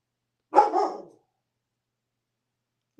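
A pet dog barks once indoors, a short sharp bark with a trailing yip, fairly close, followed by silence and a faint start of another sound.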